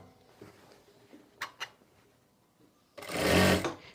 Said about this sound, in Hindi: बिल्कुल पूरे राउंड में हम सिलाई लगा लेंगे।